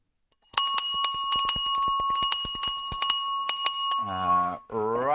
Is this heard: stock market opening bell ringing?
yes